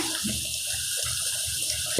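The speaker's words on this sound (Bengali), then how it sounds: "গরম পানির ঝোল দিয়ে দিলাম।" Hot water is poured into a pot of beef curry: a steady, close splashing stream that lasts about two seconds with no talk.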